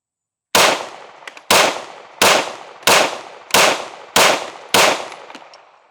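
Seven sharp, loud gunshots from a Sig Fuse pistol fire in an evenly spaced string about 0.7 seconds apart. Each crack rings out briefly before the next one.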